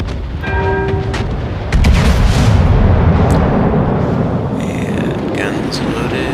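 Heavy 14-inch guns of the New Mexico battleship fire in the World of Warships naval game, a loud booming salvo that jumps in at about two seconds and rolls on as a sustained rumble over game noise and music.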